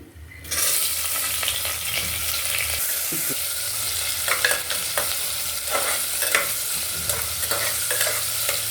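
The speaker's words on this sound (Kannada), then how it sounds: "ಒಂದು ಮೀಡಿಯಮ್ ಸೈಜ್ ಈರುಳ್ಳಿ ಈಗ ಇದರಲ್ಲಿ ಹಾಕ್ತಾ ಇದ್ದೀನಿ" Thinly sliced onion frying in oil, a dense continuous sizzle that starts abruptly, with scattered stirring clinks and scrapes near at hand, no talking.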